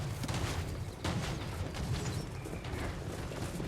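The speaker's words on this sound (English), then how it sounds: "sounds like gunfire." Gunfire from settlement towers during a Total War battle, a dense crackling fusillade with repeated sharp reports and rumbling bursts, heard at moderate distance and fairly quiet throughout.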